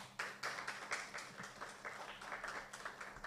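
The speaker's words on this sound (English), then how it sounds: "A round of applause." Audience applause for the judges at a university arts festival debate, a steady run of claps filling the room throughout.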